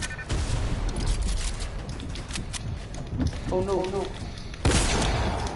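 A grenade explosion in a shooter game bursts out loud near the end, amid dense, rapid gunfire and game clatter. A player's voice briefly exclaims over the noise.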